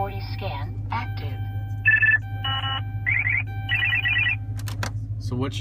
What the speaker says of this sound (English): this car has a full integrated K40 radar detector and jammer